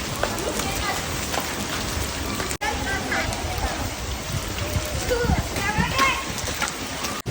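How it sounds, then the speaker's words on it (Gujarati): Steady, dense monsoon rain pours down with a constant hiss, while people bathing in it call out and chatter through the downpour. "बारिश हो रही है"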